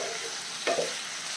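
Pepper chicken frying over high flame in a non-stick pan, a steady soft sizzle with one brief louder scrape of stirring partway through, close and alone without talk.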